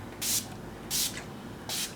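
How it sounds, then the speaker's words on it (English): Three short hissing spritzes of Urban Decay All Nighter setting spray, evenly spaced and close, onto a made-up face, each a crisp burst of mist. "So I'm going to set her makeup with the Urban Decay All Nighter Setting Spray."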